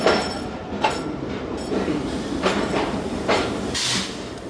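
Pakistan's Tezgam Express in motion, heard as a loud, continuous rumble of the running train with hissing bursts and rhythmic clacking from the wheels.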